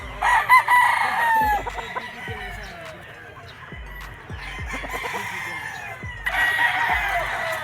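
Gamefowl roosters, SBR cross Gilmore birds on a game farm, crow loudly in overlapping bursts near and far, with clucking and shuffling between calls and a voice faintly underneath.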